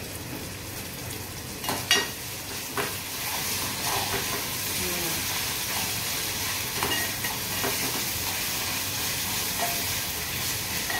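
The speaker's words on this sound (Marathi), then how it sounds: "राई टाकला थोडासा जिरा." Mustard seeds and cumin sizzle in hot oil for an Agri-style dry kantola wild-vegetable dish, giving a steady close hissing fry with scattered small pops and crackles, a few louder spits early on.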